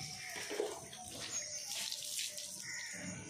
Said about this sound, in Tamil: பச்சை தண்ணியில் தான் குளிப்பாட்டியிருக்கோம்.